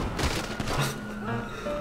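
Gunfire in the video game GTA5, a few booming shots and thuds close together in the first second, with a voice talking over it.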